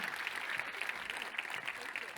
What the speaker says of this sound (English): Bigger round of applause, everyone.